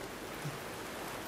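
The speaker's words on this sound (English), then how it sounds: "like it is raining right now" Rain falls as a faint, even hiss of drops on surfaces, soft and continuous with no other sounds standing out.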